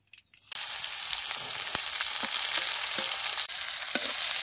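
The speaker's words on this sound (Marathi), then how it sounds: "कांदा बी तेलात चांगला भाजून घ्यायचा" Finely chopped onion dropped into hot oil with mustard seeds and cumin on a wood-fired chulha outdoors, breaking into a loud, steady, crackling sizzle with occasional spoon taps, heard close with no talk.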